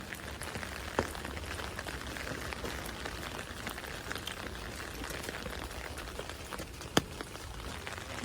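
Rain falls steadily with a dense, even hiss and occasional sharper drip clicks, heard alone at a moderate level.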